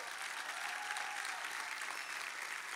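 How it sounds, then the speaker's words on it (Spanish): Applause from the audience at a special music series show in 2018, a faint, steady wash of clapping that holds evenly through the short stretch without pause. "un aplauso fuerte"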